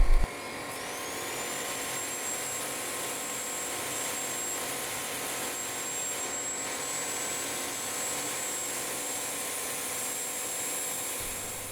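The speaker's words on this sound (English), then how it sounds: "I power sand up to 600 grit." A power sander works a wooden yarn bowl up to 600 grit, a loud continuous high whine and hiss held steady throughout with a faint rising tone as it spins up.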